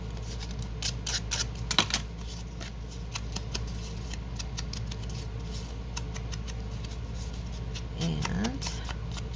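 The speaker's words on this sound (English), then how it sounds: "take the scissors and do a little roughen up around the edges" Scissors snipping and roughening the edges of a paper envelope for a junk journal, giving brief crisp cuts and rustles over a steady background hum, with a voice speaking underneath.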